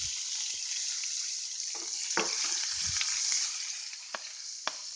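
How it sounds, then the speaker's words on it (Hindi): Onions and cumin fry in a pan over a low flame for restaurant-style chilli mushroom, giving a steady close sizzle with a few sharp clicks and scrapes of stirring, no voices. "ब्राउन होने तक हम इसको भूनेंगे"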